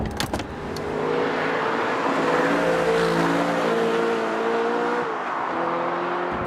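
An Audi R8's mid-mounted engine revs with a sustained, climbing tone, heard from inside at moderate level with a steady mechanical drone and slight pitch shifts as it pulls.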